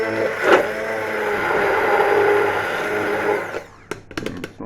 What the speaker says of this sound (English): and then we'll puree this and we'll taste it.